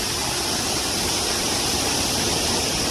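Steady broadband rush of falling water from a waterfall at a Jharkhand-style picnic spot, continuous and fairly loud with no voices over it.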